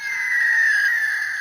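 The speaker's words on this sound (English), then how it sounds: "And there we go with the screeching." An Armada Laserbeak Transformers toy lets out a loud, sustained electronic screech, a single steady shrill tone lasting over a second with no talking.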